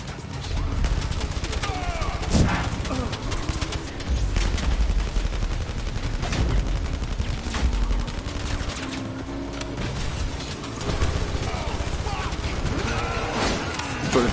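Dense gunfire in the VR shooter game Blood & Truth, rapid bursts and single shots crackling almost nonstop for the whole stretch, loud and close, with someone talking and shouting over the shooting.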